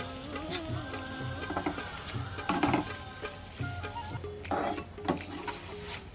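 Prawn masala with salt being stirred in, likely in a pan: soft scraping stir strokes over a steady low sizzle, with a few louder scrapes and background music-like hum.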